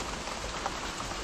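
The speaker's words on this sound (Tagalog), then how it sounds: "Tudong-tudong ulan na eh." Heavy rain pours down steadily and loudly outdoors, a dense continuous hiss of drops hitting surfaces with no voices over it.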